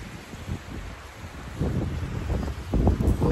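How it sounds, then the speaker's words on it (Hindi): Strong wind gusts roar and buffet the microphone outdoors near Nohkalikai Falls in Cherapunji, Meghalaya, rising in bursts of rumbling noise with no voices. "अभी देखिए यहाँ इतना जोर से हवा चल रहा है"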